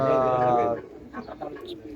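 Silver pigeons in a loft give a short, close burst of cooing that fades out within a second, followed by quieter rustling and low voices.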